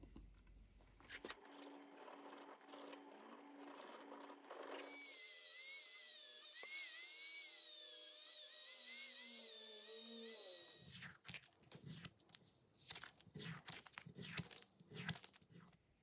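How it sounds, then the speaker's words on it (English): Frets on the neck of a vintage 1969 Fender Telecaster being recrowned and polished by hand, a steady close-up abrasive grinding that runs continuously through the middle, followed by choppier rubbing and scraping strokes. "now I'm going to recrown these frets and then polish them up"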